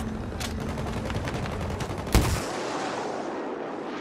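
A gun in a shooter game fires a rapid burst of shots, dense and loud, ending in one sharp final blast that cuts off into quieter background.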